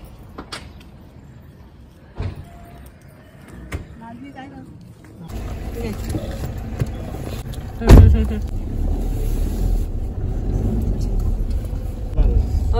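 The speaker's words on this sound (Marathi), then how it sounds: "गाडी अजून थोडीशी वरती जाते, सो आम्ही वरती चाललेलो आहोत आता" A car climbs an uphill road toward the Ekvira temple, its engine a low steady rumble heard from inside the cabin that swells noticeably partway through, with people talking over it.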